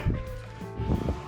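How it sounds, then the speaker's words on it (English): A room fan hums steadily at close range, a low broadband whoosh with a faint tonal whine, rising and falling slightly over the short stretch while work goes on in a pickup truck cab. "Sorry about the fan noise, a little hot."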